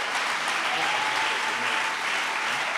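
A church congregation at a French-speaking thanksgiving service applauds to acclaim the Lord, giving steady, dense clapping from many hands that fills the room evenly from start to finish.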